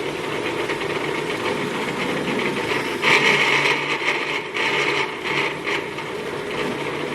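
A blender whirring steadily as it mixes peanut butter with salt, a loud continuous motor drone that thickens and roughens partway through, with no voices.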